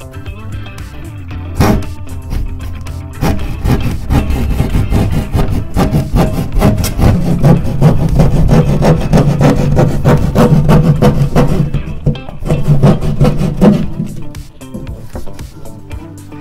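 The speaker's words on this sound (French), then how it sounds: "Ici, nous allons utiliser une scie à guichet afin d'entamer les découpes." A keyhole saw rasps through wood in steady back-and-forth strokes, close and continuous, its rhythm holding for several seconds.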